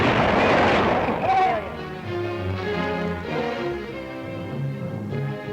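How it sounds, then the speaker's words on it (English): A test rocket fires at the Red Rock Proving Grounds with a loud, roaring burst right at the start that quickly fades into a lower, rumbling tail, with voices following. "The first firing is a test rocket."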